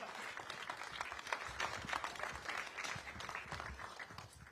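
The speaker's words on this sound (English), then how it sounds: "how about one more round of applause for the vision, the inspiration, just incredible mind behind this." Steady round of applause from a crowd at a policy event at the America First Policy Institute, dense clapping sustained throughout at moderate loudness.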